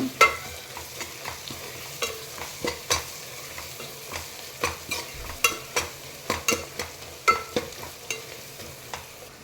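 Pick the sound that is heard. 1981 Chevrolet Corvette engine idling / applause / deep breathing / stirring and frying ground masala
stirring and frying ground masala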